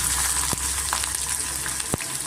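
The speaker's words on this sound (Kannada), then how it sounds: "ತರಕಾರಿಗಳೆಲ್ಲ ಸ್ವಲ್ಪ ಎಣ್ಣೆನಲ್ಲಿ ಚೆನ್ನಾಗಿ ಫ್ರೈ ಮಾಡ್ಕೊತಾ ಇದ್ದೀನಿ" Continuous loud sizzle of vegetables (beans, carrot, ginger, onion) frying in a little oil in a pan for a healthy red poha breakfast, with a couple of sharp stirring clicks.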